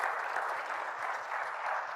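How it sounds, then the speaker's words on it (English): Steady audience applause at an evening science talk on salamanders and climate change, a dense, continuous patter of many hands filling the room at moderate level with no break. "Let's give Dr. Howard Whiteman another big round of applause."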